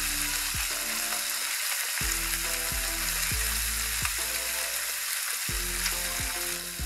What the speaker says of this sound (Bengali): মাছগুলো যখন কিছুটা ভাজা হয়ে যাবে তখন আমি মাছগুলোকে আস্তে আস্তে উঠিয়ে দিব।